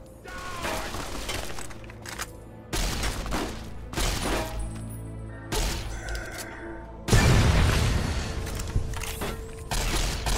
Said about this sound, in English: the gunfire's fine when the super mutants aren't around